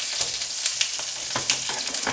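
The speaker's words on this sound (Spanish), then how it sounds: "voy a sofreír la cebolla y los ajos" Onions and garlic sauté in a little oil in a pan for mole, giving a steady close sizzle broken by occasional crackles and stirring knocks, with no voices.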